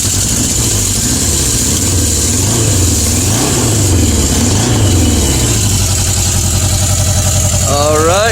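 An old Yamaha motorcycle engine runs just after starting on its first start of spring, a loud, close idle with wavering rev swells and a rising rev at the end, with talk in the background.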